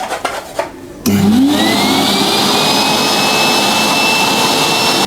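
A Santoemma Sabina SW15 washing vacuum cleaner switches on after about a second. Its motor spins up with a rising whine, then holds a loud, steady roar and high-pitched hum until the end.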